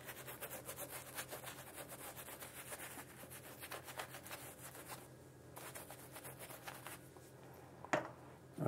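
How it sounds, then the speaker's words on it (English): Shaving soap being worked onto a face with a brush before a double-edge safety razor shave, a steady, close, soft rhythmic rubbing and swishing that continues alone, with a brief scrape near the end. "So I'm applying soap again."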